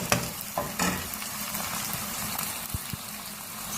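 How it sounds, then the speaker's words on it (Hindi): Chicken pieces fry with garlic in a hot pan, giving a steady close sizzle broken by a few sharp clinks and scrapes of stirring. "चिकन को हमने 2 से 3 मिनट लहसुन के साथ फ्राई कर लिया है।"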